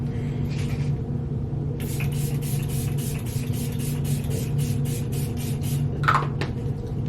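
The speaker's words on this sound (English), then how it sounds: "I'm gonna set everything with the Sephora setting spray." Sephora setting spray misted in a series of short, quick pumps, about a dozen rhythmic bursts close by over a steady low room hum, followed by a rustle.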